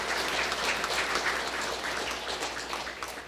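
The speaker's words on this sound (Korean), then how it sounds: "여러분 박수 한번 하늘 앞에 올려주시기 바랍니다." A lecture audience at a Korean special public-education talk breaks into applause, a dense, even patter of many hands carrying on steadily for a few seconds and easing slightly toward the end.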